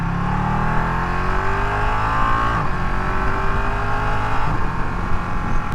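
A Ducati motorcycle accelerates as the rider rolls open a throttle with loose free play, its engine note climbing steadily and loudly through the gears for several seconds, with rising harmonic sweeps and a brief shift break, with no talking.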